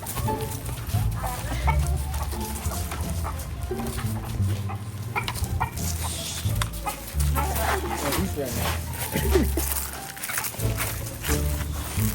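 A backyard rooster resisting capture clucks and squawks in short, agitated bursts close by, mixed with a dog barking, scuffling, and people talking over the commotion.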